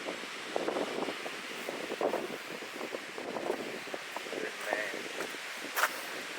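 Outdoor wind buffets the microphone in gusty, rumbling bursts that rise and fall unevenly, with a muffled voice partly buried beneath the blustery noise.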